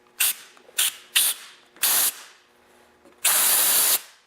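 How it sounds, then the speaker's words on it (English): Compressed air blasts into a stripped muffler bolt hole on a small engine, five sharp close bursts: three short quick ones, a slightly longer one, then a long sustained hiss, with quiet pauses between. "now I'm just going to air blow that hole"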